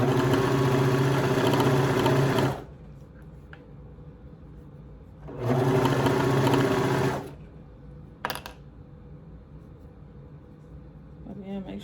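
Sewing machine stitching a toddler halter top, running in two steady, loud whirring bursts of about two seconds each with quiet gaps between, followed by a brief clack.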